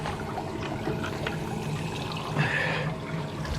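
Hot water poured to wash spilled oil down while making bee syrup, a steady trickling pour under constant background noise, growing slightly louder toward the end.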